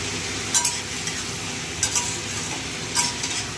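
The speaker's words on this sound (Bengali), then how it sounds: "সবজিটা এবার মশলা দিয়ে কষাচ্ছি" Vegetables sautéing with spices in a pan, a steady frying hiss under three sharp scrapes and clinks of a spatula against the pan, close and moderately loud, without speech.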